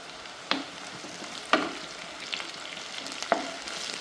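Chopped green chillies and shallots frying in a pan for a Kerala colocasia leaf curry, a steady close sizzle broken by three sharp spoon scrapes or clinks spaced about a second apart.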